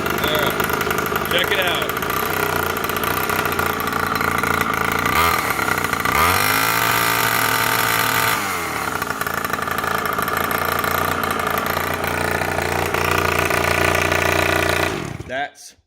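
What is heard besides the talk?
gas pit bike engine starting and idling, Razor MX350 conversion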